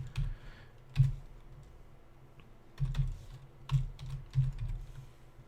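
Bursts of typing on a computer keyboard while writing code during a hacking livestream, quiet clusters of key clicks separated by brief pauses, close and alone without talk.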